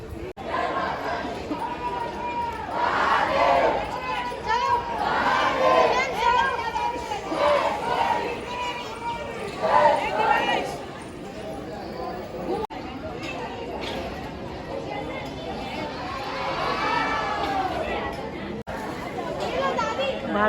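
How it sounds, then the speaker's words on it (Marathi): Crowd of devotees at a temple in Kolhapur, a constant babble of many voices with nearby chatter rising and falling, and footsteps and movement among the throng. "भाविकांची गर्दी खूप सारी"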